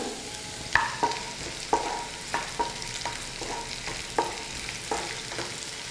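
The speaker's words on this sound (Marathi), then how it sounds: "याला एक अर्धा मिनिटच फ्राय करायचं आहे" Paneer frying over high heat in a pan, a steady sizzle punctuated by sharp spatula scrapes and clinks against the metal every half second or so, close and moderately loud with no talking.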